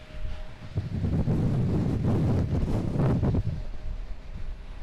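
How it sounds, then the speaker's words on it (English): Strong gusts buffet the microphone and camera outdoors during stormy weather at an airport, a loud, continuous low rumble with rising and falling surges and no speech. "I can't get in a good spot where the wind won't hit me or the camera"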